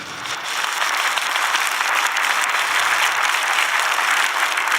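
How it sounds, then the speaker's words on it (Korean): A church congregation claps in sustained, dense applause, loud and steady from start to finish with no voices on top. "하나님께 우리 영광의 박수를 한번 하겠습니다"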